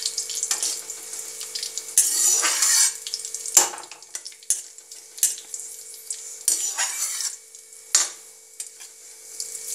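Cumin seeds frying in a pan for potato khichdi: crackling sizzle bursts with utensil scrapes and clinks against the pan, close up and uneven, no voices.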